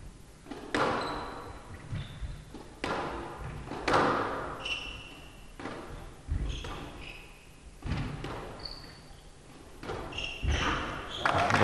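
Squash ball hits in a professional women's world championship match, sharp echoing thuds about every one to two seconds in an indoor court, with squeaking shoes and a commentator talking throughout.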